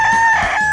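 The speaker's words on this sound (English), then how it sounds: "rooster," A rooster crows in a single brief, loud, tonal call, heard close and alone.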